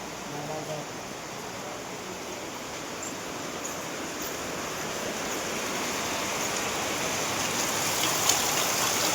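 Steady rain pours down in a constant broadband hiss, filling the space evenly with no clear voices over it.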